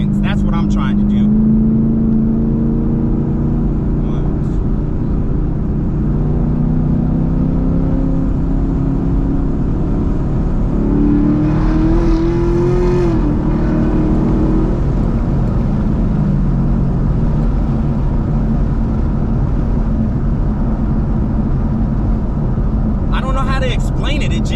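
Car engine fitted with a ProCharger supercharger runs and revs in steady steps, a loud continuous drone with rising supercharger whine, held for seconds at each level.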